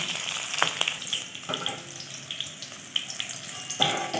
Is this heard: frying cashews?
yes